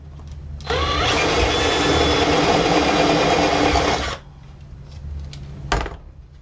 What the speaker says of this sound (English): we need to drill out this hole for the switch